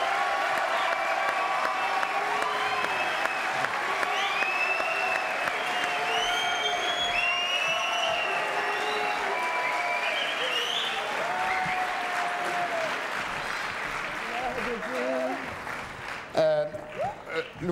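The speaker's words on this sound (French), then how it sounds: "Attention, applaudissements." Sustained studio audience applause on a French television talk show, loud and dense throughout, with cheering voices mixed in and talk emerging as the clapping fades near the end.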